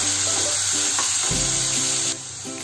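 Onion and capsicum fry in a pan, a close, crackling sizzle with a couple of brief scraping stirs, no voices present.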